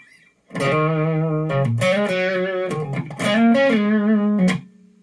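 An electric guitar plays a few sustained, slightly overdriven chords as a dry signal, with no echo or reverb tail, each note cutting off cleanly.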